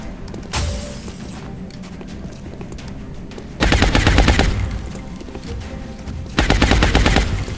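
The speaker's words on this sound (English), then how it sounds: "Nah, that's a machine gun, baby." Machine gun fire in the video game XCOM: War Within, with loud rapid bursts of automatic shots over ongoing game sound, two dense volleys standing out near the middle and end.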